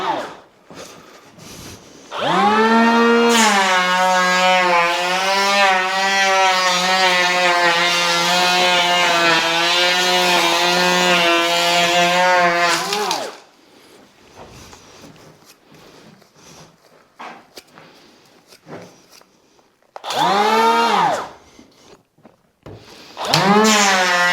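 Hand-held power planer taking 1 mm off the edge of a wooden door, a loud whining roar for about eleven seconds that spins down, then a shorter second pass later.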